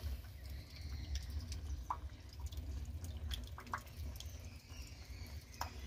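Clothes being rinsed by hand in a bucket of clean water outdoors, with faint intermittent drips and small splashes over a low background hum and no voices.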